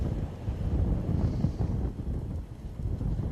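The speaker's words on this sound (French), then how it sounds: "le vent s'est levé quand même" Steady wind gusting across an open mountainside in the Monts du Cantal, a continuous broadband roar buffeting the microphone with slight swells, no voices.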